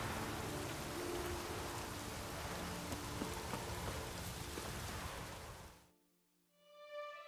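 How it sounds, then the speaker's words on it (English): Heavy rain pours in The Witcher 3, a dense, loud, steady downpour that cuts out abruptly near the end and gives way to a brief tonal game sound. "Raining fucking buckets."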